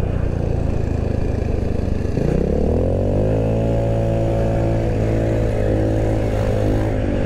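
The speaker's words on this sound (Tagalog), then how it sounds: "Sarap talaga magmotor." A motorcycle rides along an asphalt road beside Taal near Tanauan City, Batangas, its engine droning steadily and then revving up into a rising, sustained tone, heard close and loud with wind noise throughout.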